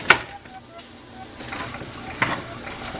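Breakfast cooking on a skillet, a soft low sizzle with sharp clinks of utensils and pans near the start and again later.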